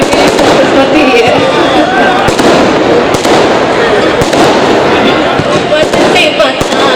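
Firecrackers bursting during an outdoor poetry recitation, a dense continuous crackle of pops with sharp louder bangs throughout, mixed with a voice and crowd noise.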